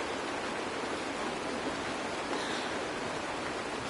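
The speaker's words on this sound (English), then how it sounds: "It's raining!" Heavy rain in the Honkai: Star Rail game pours down as a continuous, even hiss with no breaks or voices.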